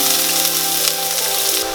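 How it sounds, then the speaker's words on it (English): Onions sizzle loudly in a pan still hot from frying cashews for saffron rice, a steady close crackling hiss that runs the whole time with no voices over it. "Now in the same pan I'll add in my onions."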